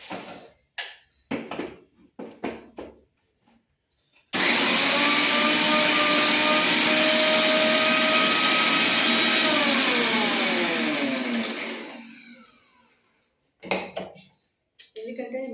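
A mixer grinder in a kitchen runs loudly for about eight seconds while tomato rice is being made, a steady whirring motor that winds down, framed by clinks of utensils and brief sounds before and after.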